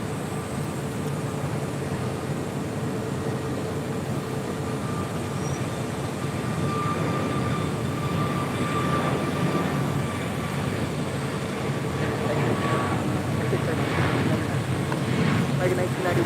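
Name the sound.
airplane taking off from runway 25 right at LAX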